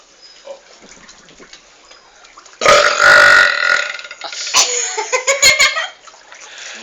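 A person lets out loud, drawn-out burps by a swimming pool, a long belch followed by a second rumbling, stuttering one, with faint water sounds in the background.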